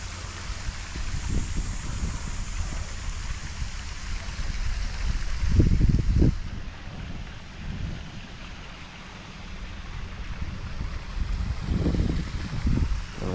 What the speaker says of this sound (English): Got the little waterfall over here.